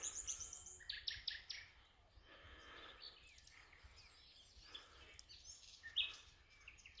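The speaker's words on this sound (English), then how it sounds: "as you can see, there's a lot of birds here." Several birds chirp and tweet on open farmland in São Vicente da Beira, Portugal, bright high calls coming in bursts over a low steady background rumble.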